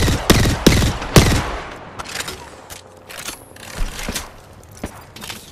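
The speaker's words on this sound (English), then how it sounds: "I'm under fire." Rapid bursts of gunfire from Apex Legends, several sharp close shots clustered early, then scattered quieter shots and mechanical clatter continuing through the rest.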